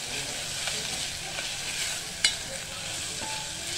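Turmeric and asafoetida sautéing in a pan make a steady, close, loud hiss of frying, with a single sharp tap of a utensil partway through.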